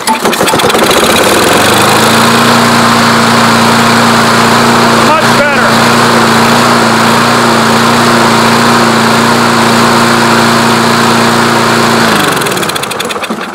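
A Kohler XT6 small engine runs loud and close with a steady drone, its pitch wavering slightly as it surges, then winds down near the end.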